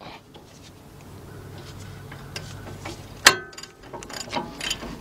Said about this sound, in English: we had to use our 21 millimeter half inch drive with our half inch drive